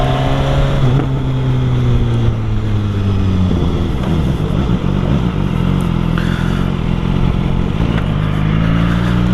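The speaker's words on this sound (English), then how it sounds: "Standard rev bomb." A car engine revving hard in a rev bomb, recorded from a vehicle-mounted GoPro Karma Grip: a loud, close roar that sweeps up and down in pitch through repeated revs, steady and dominant throughout.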